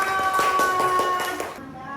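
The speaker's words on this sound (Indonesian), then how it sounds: "Tepuk tangan buat anak perempuan." Hands clap for a girl in a quick, even rhythm of about seven claps, close and crisp, while a sustained voice carries on beneath them before the clapping fades out.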